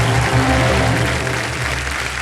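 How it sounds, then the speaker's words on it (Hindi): Loud, dense applause from a large audience, sustained and even throughout, with a low hum underneath. "जोरदार तालियां बजते हमारे प्रदर्शन के लिए"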